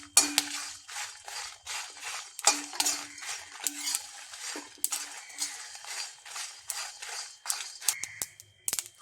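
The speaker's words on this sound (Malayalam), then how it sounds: "പെരുംജീരകം എല്ലാം പൊട്ടി വരുന്നുണ്ട്" Fennel seeds dry-roasting in a pan crackle and pop in quick, irregular bursts, with a utensil scraping and clinking against the pan, close and fairly soft.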